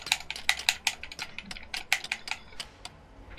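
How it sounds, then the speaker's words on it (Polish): Rapid keyboard clicking while playing the co-op game A Way Out: quick bursts of sharp, close keystrokes in an irregular rhythm, fairly loud and alone with no talk. "Tu widzowie muszą słyszeć twoje klikanie."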